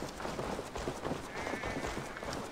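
Sheep in Assassin's Creed Valhalla let out a wavering bleat midway through, set against a steady bed of busy in-game ambient noise.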